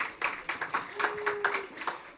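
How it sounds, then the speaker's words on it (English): Scattered audience applause at a tech conference session, a modest run of claps rising and falling over about two seconds at moderate distance. "Crowd goes wild."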